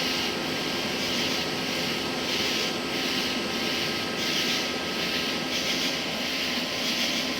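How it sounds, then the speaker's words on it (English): The cooling fan of a Harley-Davidson heated seat, switched to cool, gives a steady whirring hum with a faint airy hiss, constant and fairly loud close by, with no voices. "switched it to cool, and right away you can hear this fan kick on"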